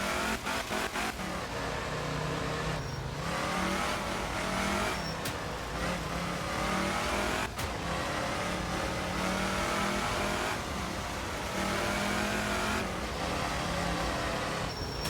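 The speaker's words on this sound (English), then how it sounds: "Fourth, we're going to downshift all the way to second." Lancia Fulvia rally car in the Art of Rally video game, its engine revving hard and loud throughout, with pitch dropping and climbing as it downshifts through the gears between bursts of acceleration.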